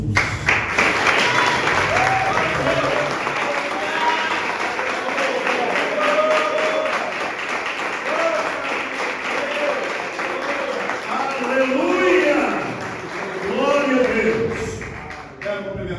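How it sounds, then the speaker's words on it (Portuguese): A church congregation claps steadily for a long stretch at a service, dense and loud throughout, with voices calling out and cheering over the applause. "Então agora eu queria que você aplaudisse Jesus."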